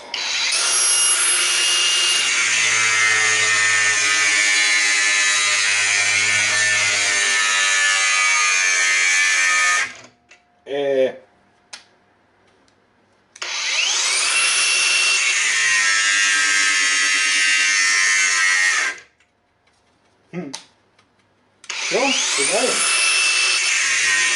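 A Dnipro-M DGA201BC brushless cordless angle grinder cutting, with two long, loud, high-pitched whining cuts broken by pauses where the motor spins down and restarts, and a third cut beginning at the end.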